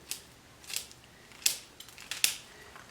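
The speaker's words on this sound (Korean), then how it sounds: "가위를 수평으로 해서 뿌리를 잘라주는 게 중요한 포인트가 되겠습니다." Scissors snip through plant roots during root trimming for a mini indoor garden, giving five or six sharp, dry clicks spaced irregularly, close and crisp with no talking.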